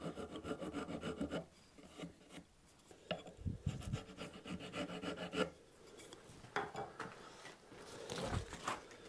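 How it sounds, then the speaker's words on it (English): Rat tail file rasping a wooden Telecaster guitar part, bursts of close, gritty back-and-forth strokes separated by brief pauses and a few knocks. "I'm just going to give it a little bit of a fettle with a rat tail"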